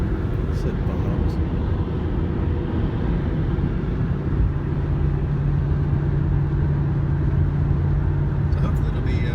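A car driving on a mountain road near Asheville gives off a steady, loud rumble of road and engine noise that fills the whole stretch without letting up.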